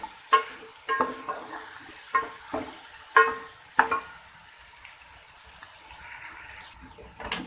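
Tomatoes fry with beef biryani masala in a pan, a soft sizzle broken by several sharp stirring scrapes and clatters, then settling into a quieter bubbling fry.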